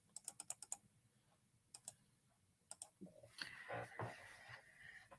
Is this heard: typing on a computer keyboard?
yes